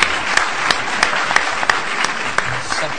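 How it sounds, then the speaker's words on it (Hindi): Audience at a Hindi kavi sammelan poetry night applauding the event volunteers: a steady wash of many hands clapping, dense and fairly loud, with a few sharper claps standing out at regular beats, no voices over it. "तो उनके लिए एक बार चार से आप तालियां बजा दें"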